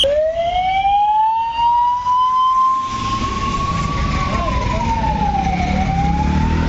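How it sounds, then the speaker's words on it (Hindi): An ambulance siren wails loudly in a long rising and falling tone as it passes through a protest blockade on a national highway, with traffic rumble building underneath. "तो देखते हैं एम्बुलेंस यहाँ से जा रही है"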